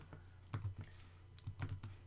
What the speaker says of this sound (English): So how we do this then is we're going to type in our NS date formatter.